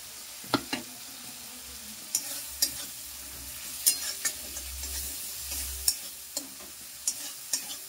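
Spices with cashews, raisins and green chillies are stirred in hot oil in a pan, giving soft repeated scraping strokes over a low, steady sizzle. The sound is fairly quiet and close, with no talking.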